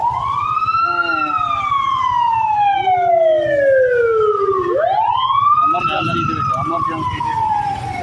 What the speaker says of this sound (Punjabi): ਐਂਬੂਲੈਂਸ ਆ ਗਈ ਐਂਬੂਲੈਂਸ ਆ ਗਈ